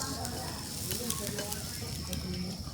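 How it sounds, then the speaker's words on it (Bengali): Dried fish (shutki) fries in a pan, making a continuous crackling sizzle with small pops, steady and close throughout. "এইবার আমার শুটকি ভাজা হয়ে গেছে"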